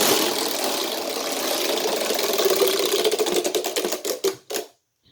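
A homemade model Wheel of Fortune wheel spins with a dense, rapid ratcheting clatter that gradually slows into separate clicks, ending in a few last ticks before it stops.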